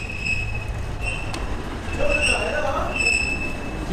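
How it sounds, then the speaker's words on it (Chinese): A small Alishan mountain railway train rolls past close by with shrill, steady wheel squeal and a low rumble, swelling louder partway through, while people talk faintly. "有火车，火车来了。"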